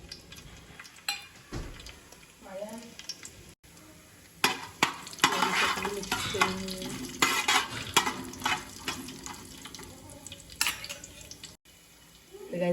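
Whole spices hit hot oil for biryani with bursts of sizzling and crackling, broken up by clinks and scrapes of a spoon stirring in the pot, loud and close with irregular rhythm.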